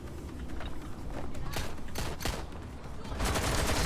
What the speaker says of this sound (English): they're up there shooting me now